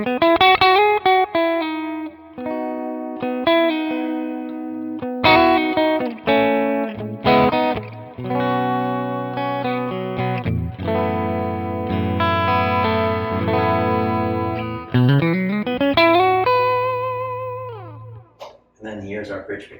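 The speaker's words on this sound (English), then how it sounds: "here's the second position where you'll get a little bit of that dual single coil quack" Schecter AM6 electric guitar on its second pickup position, dual single coils together, played as sustained chords and picked notes with a bright, quacky tone, steady and close for about twenty seconds with no talking.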